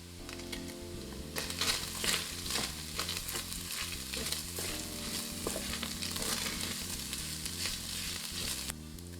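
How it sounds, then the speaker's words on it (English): Hot bean sauce sizzles in a wok as it is stirred in, with bursts of crackling and scraping strokes over a steady, fairly loud fry and a tonal backdrop throughout. "Then stir in the hot bean sauce."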